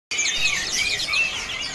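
Caged songbirds at the Pramuka bird market in Jakarta, a dense burst of bright, overlapping chirps and tweets that starts abruptly and continues steadily, fairly close and clear.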